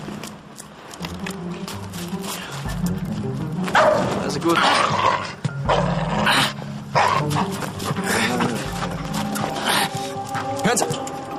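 A dog barks, yips and growls in bursts at close range, mixed in with ongoing German conversation between people.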